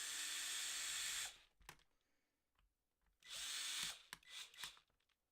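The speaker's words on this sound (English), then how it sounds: "Got my drill." Power drill driving screws during a workshop build of a Vaterra Twin Hammers RC truck with carbon fiber parts, two loud whirring bursts separated by quiet pauses, the second breaking into short pulses, close and alone.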